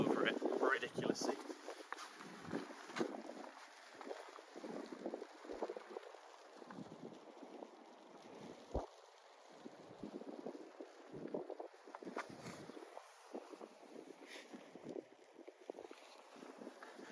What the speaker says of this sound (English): it is unbelievably windy